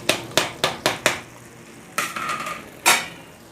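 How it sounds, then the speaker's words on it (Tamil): A spatula strikes a pan as water spinach stir-fry with grated coconut is mixed: five quick sharp clanks in a row, then a scraping stir and one more loud knock, close and with no talking. "தேங்காய் போட்டு மிக்ஸ் பண்ணணும்"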